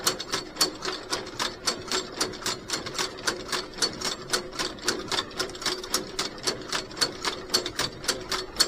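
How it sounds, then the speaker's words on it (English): A mid-1960s fiber mill combing machine runs with a steady mechanical clatter, its combs coming down to grab fiber in an even rhythm of roughly three beats per second over a constant whirring drone. "See those combs coming down, and they're grabbing the fiber, and then they're moving, and then the next pair comes down"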